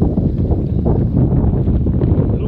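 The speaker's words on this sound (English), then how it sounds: "A little windy today." Steady, loud wind buffeting a microphone at an outdoor RV gathering, a continuous low rumbling roar with gusty flutter throughout and no other clear sounds.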